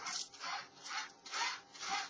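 Ribbon being wound by hand onto the upper spindle of a Printronix T5000 label printer gives four rhythmic rubbing, scraping strokes, close and moderately quiet, with no talking.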